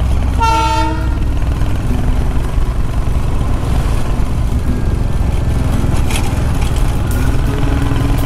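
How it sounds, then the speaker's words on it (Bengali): A diesel locomotive on an Indian hill railway rumbles past loudly, its horn sounding a short toot at the start before a steady, heavy roar of engine and rolling wagons fills the rest. "তো এটা ডিজেল ইঞ্জিন,"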